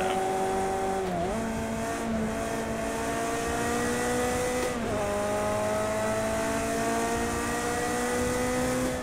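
A Ferrari race car in the video game Project Cars 2 screams at high revs, its engine holding a sustained whine with two quick dips at gear changes, loud and steady throughout with no talk.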